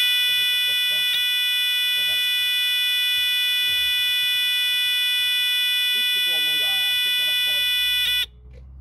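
A steady high-pitched lights-on warning tone drones continuously inside a Lada 1200S, with people talking over it, then cuts off abruptly near the end.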